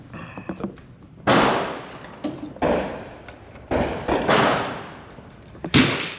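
An M1 Garand rifle fired outdoors, four sharp loud shots spaced roughly a second and a half apart, each with a ringing decay, with faint rustling and handling between them.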